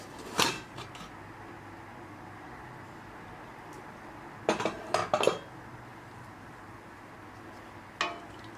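A few clanks and metallic rattles of a pressure cooker lid being opened after cooking butter chicken masala, in separate bursts with quiet gaps between them.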